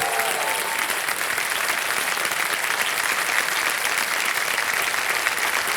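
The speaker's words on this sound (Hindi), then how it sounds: "तालियां बज जाए इनके लिए" A studio audience on the Hindi quiz show Kaun Banega Crorepati applauds a contestant who has won 12,50,000 rupees, a loud, even, sustained wash of clapping with no break.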